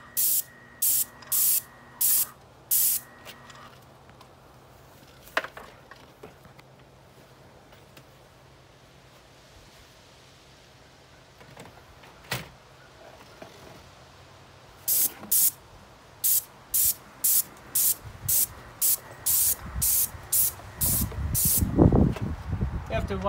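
A paint sprayer coats a house soffit behind a spray shield in repeated short hissing bursts, evenly spaced passes near the mic, with a quiet pause in the middle and rustling and handling noise between.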